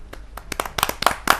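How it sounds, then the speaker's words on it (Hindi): A kavi sammelan audience claps to welcome a poet and songwriter, with sharp, distinct hand claps coming in an uneven, quickening patter that grows louder over a short burst. "आवाज़ देता हूँ, आपकी जोरदार तालियां बजे ऐसी बड़ी कवित्री के लिए, बड़ी गीतकारा के लिए, अंजना अंजुम जी।"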